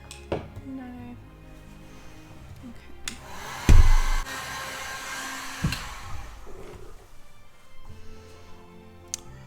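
Hair dryer blowing steadily to dry an Inktense ink spray background on paper, a continuous airy whir running under quiet talk with a few brief knocks and handling bumps.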